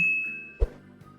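A single bright notification ding rings out with a sustained tone, followed by a soft thump and faint fading chime, clean and isolated.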